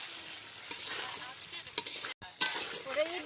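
Garlic cooking in oil for mango pickle gives off a steady hiss, with stirring scrapes, a brief cutoff and then more sizzling. A voice speaks briefly near the end.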